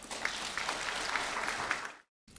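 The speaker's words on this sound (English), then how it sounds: "Go ahead and give yourselves a round of applause" Graduating students at a community college awards ceremony applaud themselves with a full, even round of clapping heard at a moderate distance, which cuts off abruptly near the end before a brief return.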